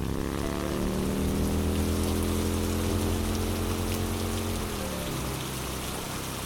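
Very heavy rain pours down in a steady, dense roar that barely changes, with a low droning hum underneath and no voices.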